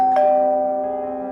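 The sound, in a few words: doorbell ringing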